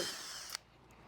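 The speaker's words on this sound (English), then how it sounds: "So this stage is just drilling out the existing pop rivets." A power drill whines briefly at high pitch while drilling out pop rivets on a jet ski, then cuts off abruptly, leaving quiet background hum.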